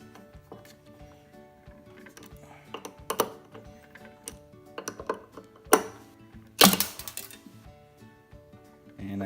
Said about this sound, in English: grab my ratchet and tighten them up fully